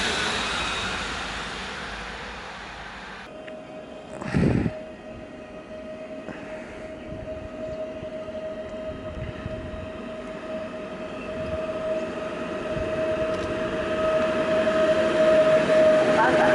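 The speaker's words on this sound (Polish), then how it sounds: "Na torze pierwszym przy peronie pierwszym jedzie pociąg niedostępny dla pasażerów." A train not open to passengers rolls along track one past platform one at Łowicz Główny station in Poland, a steady low rumble and droning tone that builds slowly across the clip, with a brief thump near the start.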